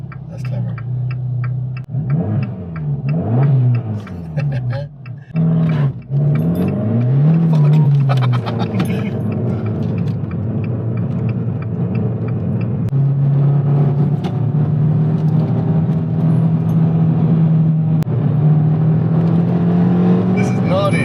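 A Nissan 370Z GT revs loudly with its exhaust valve open, the engine rising and falling in repeated sweeps before holding a steady higher drone. Voices talk over it throughout.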